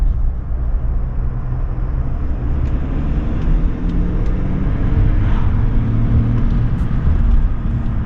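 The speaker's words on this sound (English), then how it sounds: "maybe you guys might be able to hear just the intake, simply because I changed the drop-in filter" A Duramax LM2 3.0L diesel truck with a drop-in intake filter and deleted turbo resonator cruises along, a steady low rumble of engine and road noise with faint intake whoosh rising slightly through an easy throttle press, no voices.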